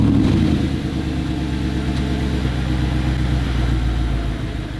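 Audi R8 with a 4.2-litre V8 rumbles steadily at low speed, a deep throbbing tone that stays loud and close throughout, with a slight swell at the start.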